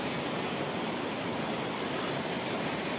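Steady rushing water pours continuously, a dense even hiss like a waterfall heard close by.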